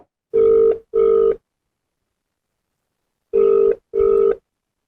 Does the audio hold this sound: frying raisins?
no